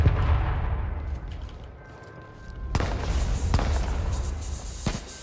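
Gunfire in the battle royale video game H1Z1 during a scrims match, with sharp broadband shot cracks at intervals over a constant low rumbling game background.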